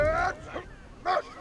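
A German dog barking in the World War I video game Valiant Hearts, two close, loud yelping barks separated by a brief gap, with a soft whimper between them.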